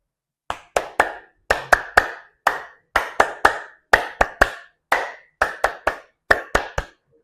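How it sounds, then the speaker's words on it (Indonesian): A group claps hands in a rhythmic five-clap routine, sharp, close, unison claps falling in short repeated bursts separated by brief gaps, with no talking. "Dua-dua kanan, dua-dua kiri, 1 atas."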